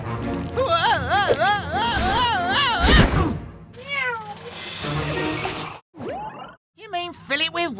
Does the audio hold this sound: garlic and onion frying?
no